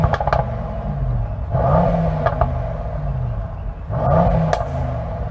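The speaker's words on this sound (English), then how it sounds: "So I'm going to rev up the Merc first." A stationary Mercedes-AMG E63 S V8 engine blips through repeated revs, three rising bursts with brief pauses between, loud and close.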